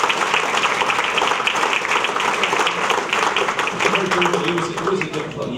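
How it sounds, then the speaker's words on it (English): A steady round of applause from diners at a chamber of commerce award dinner, dense and even throughout with slight dips near the end, filling the room from start to finish. "Let's give them a big round of applause for all the work."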